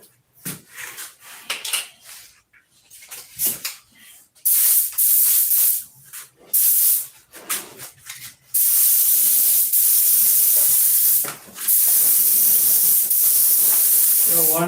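Close, loud hissing bursts of spray paint laying down a dust coat, short intermittent sprays at first and then long continuous blasts with brief pauses between them.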